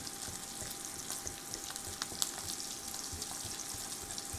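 Food sizzles steadily in a hot pan at 460 degrees just after being flipped, a constant crackling fry with small pops and no talking.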